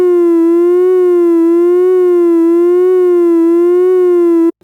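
A loud, buzzy synthesizer tone with square wave modulation held steadily, its pitch wobbling gently up and down in a slow regular cycle before cutting off abruptly.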